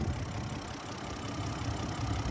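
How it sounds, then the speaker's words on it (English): A 2023 BMW 740i's turbocharged six-cylinder engine idles in a steady, even low rumble with a faint hiss, close by and uninterrupted, no talking. "there is that turbocharged 6-cylinder engine"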